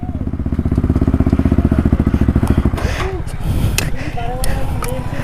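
A motorcycle engine thrums in a fast steady pulse while riding through traffic, loud and close, then eases into a rougher idle with people talking over it.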